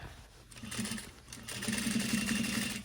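A sewing machine stitches along the edge of striped fabric for a tailored bed skirt, its motor whirring in short bursts that settle into a steadier run, close and fairly quiet.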